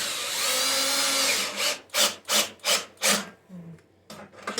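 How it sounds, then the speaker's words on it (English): A 10mm socket wrench ratchets bolts back into a Toro Super Recycler lawn mower during a tune-up, giving a handful of evenly spaced, crisp, close clicking bursts. "grab your socket again with your dang 10mm socket and just re-put in all those bolts that you took out at the beginning"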